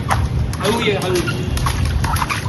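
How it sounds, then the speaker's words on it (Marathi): Water runs steadily from a tap in a close, continuous rush, with people talking over it throughout. "तुम्ही ऐकू शकता यातून आवाज येत आहे आणि पाणी पण येत आहे"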